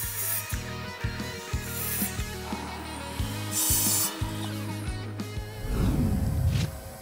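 Sanding the rounded ends of mahogany and teak legs for a cornhole board, with steady close rubbing and rasping strokes over a constant low hum, getting louder and rougher toward the end.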